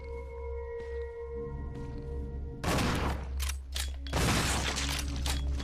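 A burst of loud gunfire from the survival-horror game Resident Evil Zero, two heavy shots ringing out in quick succession over a low droning game ambience with tonal background hum.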